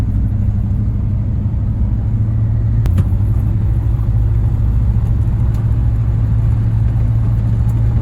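An old truck engine, revived after more than 20 years, runs steadily as the truck drives and spins its tires, a continuous loud low rumble throughout with no talking.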